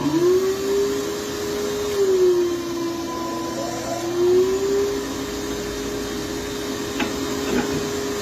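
A dust collector vacuum hums steadily and loudly throughout while shaping rattan, its drone wavering slightly in pitch, with a faint tap near the end.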